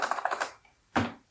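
A short burst of rapid keystrokes on a computer keyboard, then a pause and a single louder clack, crisp and close.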